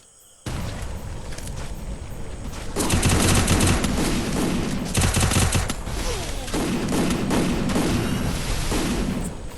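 Gunfire in a first-person shooter video game, bursts of rapid automatic shots with short pauses, loud and close, with players talking now and then.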